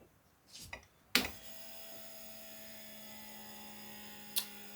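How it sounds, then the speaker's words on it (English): A vacuum sealer pump kicks on after a couple of soft handling sounds and hums steadily while drawing air out of half-gallon jars of freeze-dried food, quiet and close, with a brief click near the end. "I can go ahead and vacuum these shut."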